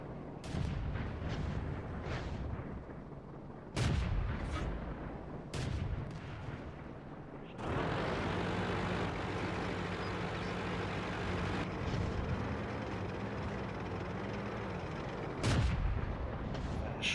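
An AMX 40 tank's cannon fires in World of Tanks, sharp booming blasts spaced a few seconds apart, then a long heavy rumble of engine and battle noise, with no talking.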